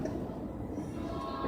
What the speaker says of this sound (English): And that is a train that comes from a quarry.